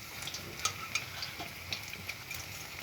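Food fries quietly in oil in a pan while a spatula lifts and checks it, giving a low bubbling sizzle broken by several sharp clicks and scrapes of metal, no speech.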